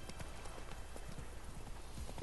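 Horse hooves clop steadily along a shoreline in The Witcher 3, a close, even trotting rhythm under a constant dense background wash, with no voices.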